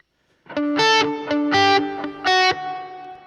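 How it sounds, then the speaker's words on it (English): Electric guitar riff played through a Strymon Flint reverb pedal on a subtle setting: three loud strummed chord bursts with short picked notes between, ringing out with a light reverb tail, alone with no talk. "Let's go with the subtle reverb."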